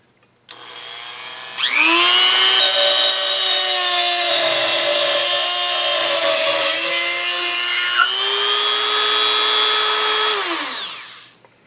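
A Dremel EZ Lock thin metal cut-off wheel slicing through a steel nail held in a small vise, a loud high whine that spins up, holds steady with a slight dip in pitch midway, then winds down.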